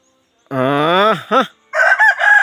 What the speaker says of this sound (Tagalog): Nya, agi usban yung talaok ay.